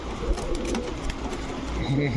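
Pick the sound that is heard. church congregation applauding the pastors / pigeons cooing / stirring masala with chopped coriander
pigeons cooing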